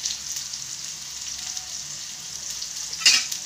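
Onion frying in a pan with a pinch of turmeric, a steady soft sizzle running throughout with a brief sharper crackle near the end.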